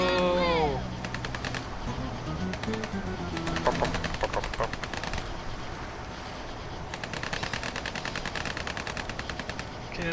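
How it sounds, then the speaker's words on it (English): Military gunfire in Tropico 5: rapid automatic bursts crackle in dense volleys, pausing briefly before resuming as a sustained fusillade, with a voice speaking near the start. "Some shots were fired"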